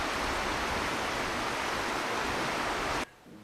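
A human voice imitates water going over falls with a steady, breathy rushing hiss, held evenly for about three seconds and then cut off abruptly.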